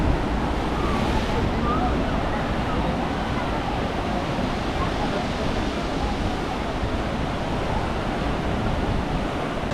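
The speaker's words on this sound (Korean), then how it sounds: "아까보다 파도가 좀 덜 치네" A continuous roar of surf at a beach in Dubrovnik, Croatia, with waves breaking and washing in a steady, dense wash of noise, with no distinct voices.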